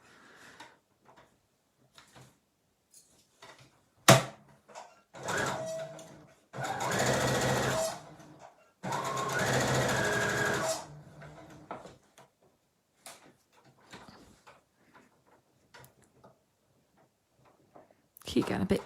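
Sewing machine top stitching the seam of a zipped, piped bolster cushion, running in two sustained bursts a few seconds long, close and fairly loud, with quiet handling clicks and brief gaps between.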